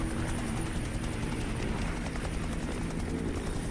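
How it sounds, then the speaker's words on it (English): Helicopter rotor chopping from the Duke Nukem: Manhattan Project video game, a steady loud throbbing drone that holds evenly throughout with no pauses. "Where'd that chopper go?"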